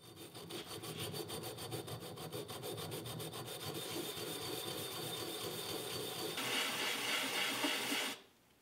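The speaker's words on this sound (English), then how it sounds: "This is adjusted by rubbing down the bushing." A bronze gearbox bush from a Land Rover being rubbed down by hand to set end float, a steady rasping scrape that continues evenly for about eight seconds before stopping abruptly, close and alone.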